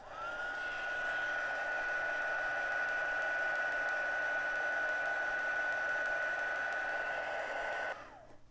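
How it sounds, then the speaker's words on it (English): A heat tool blows a steady, loud whooshing hiss with a constant whine, drying puff paint on a handmade card; it runs unbroken for about eight seconds before cutting off. "I'm keeping a distance of the heat tool from the card"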